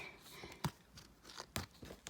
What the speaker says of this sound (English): Really quick shuffle. Such a big deck.